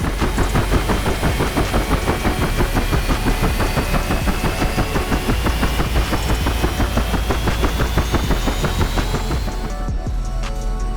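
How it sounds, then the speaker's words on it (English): An F-86 Sabre jet taxies in the DCS flight simulator, its engine giving a loud, steady, rapidly pulsing rumble with a thin rising whine on top. It eases slightly near the end. "While we're taxiing to the runway in this awesome F-86 Sabre"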